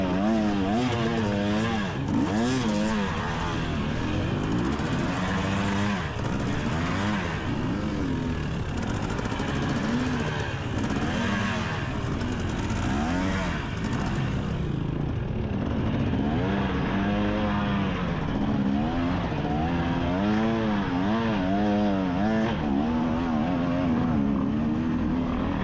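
A 250-class dirt bike engine revs steadily through an off-road GNCC race at The General, 2024 Round 3. The rising and falling engine note stays loud and close throughout, with no talk over it.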